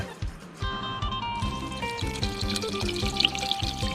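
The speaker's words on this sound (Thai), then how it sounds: "แล้วก็สมมติเราล้างข้าวแล้ว ใส่น้ำลงไป" Water poured into a pot of washed sticky rice, a continuous trickling splash with clinks of the pot over a steady background hum.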